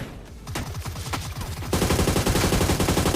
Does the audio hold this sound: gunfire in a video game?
yes